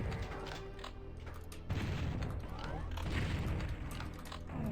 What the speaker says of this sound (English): Will he just stop casting those goddamn fireballs?